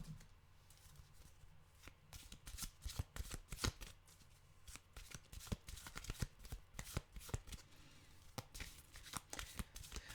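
A deck of animal oracle cards is shuffled by hand, giving quiet, irregular riffling and snapping bursts close to the mic.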